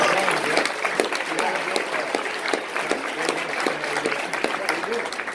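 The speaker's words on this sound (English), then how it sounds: "let's give all those people a round of applause" An audience gives a round of applause, with steady, moderately loud clapping throughout and some talk mixed in.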